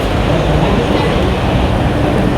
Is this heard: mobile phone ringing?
no